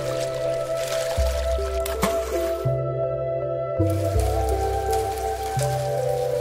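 Rain in the animated Chainsaw Man Reze arc film, falling steadily around a school and pool, a soft hiss of drops and drips under a layer of tonal background music, with a brief break midway.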